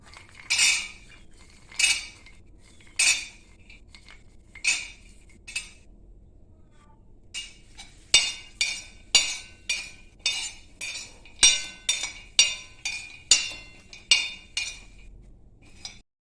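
Peanuts are dry-roasted and stirred in a metal pan, with a spoon scraping and clinking in sharp strokes, a few spaced hits at first, then a fast regular run of close strokes.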